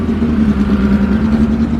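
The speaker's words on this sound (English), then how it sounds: "I can hear something revving over here." A classic car engine revs nearby in the paddock at Oulton Park during the Gold Cup, a steady loud mid-pitched drone with a firm low hum and no voices.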